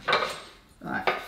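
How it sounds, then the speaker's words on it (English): A knife cuts small hot ingredients for a Tom Yum soup in half on a board, two crisp slicing chops about a second apart, close and fairly loud with no talk. "I'm just going to cut these in half."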